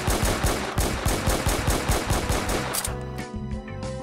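Rapid automatic gunfire from an oversized gun in Roblox rattles in a fast, even burst of loud shots, then cuts off into a ringing tail.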